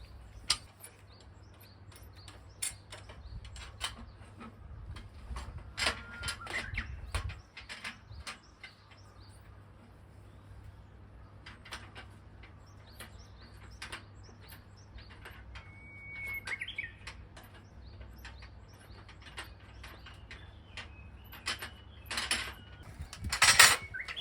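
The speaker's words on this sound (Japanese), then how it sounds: "ウグイスかわいい。" A Japanese bush warbler sings faintly in the distance outside an old Japanese farmhouse under renovation, its brief whistled notes nearly buried among sporadic clicks, knocks and handling noises of the work.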